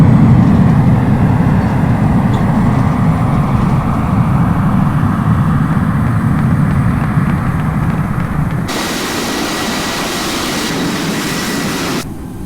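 Singapore Airlines A380-800 on its landing roll at Changi with spoilers extended: a loud, steady, broad roar of engine and airflow heard from inside the cabin, continuing without a break.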